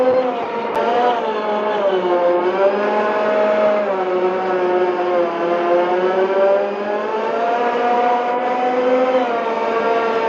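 A steady motor whine with a rising and falling pitch runs continuously, loud and close, as a Montra battery-electric tractor drives along.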